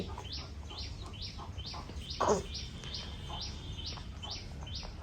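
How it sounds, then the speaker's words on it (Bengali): A pet bird chirps in a steady run of short, evenly spaced high tweets, about two per second, with one louder burst partway through, heard close and indoors over a faint low hum. "টুকুস পাখি বলি আমার শোনো রাগ করে ঘুমাইছো কেন তুমি"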